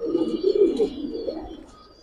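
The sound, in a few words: pair of silver pigeons cooing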